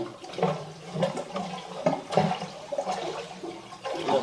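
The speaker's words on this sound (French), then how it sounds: "Je crois que tu as débouché l'évier." Water gurgles and rushes in uneven surges through a newly unclogged kitchen sink drain, a steady bubbling flow close by with no talking.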